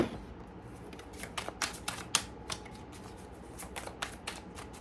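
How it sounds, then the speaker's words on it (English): Tarot cards are shuffled in a series of crisp, papery riffles and snaps, close and fairly loud, clustering in quick bursts with short pauses between, without anyone talking. "Let me shuffle out a clarifier for each position briefly."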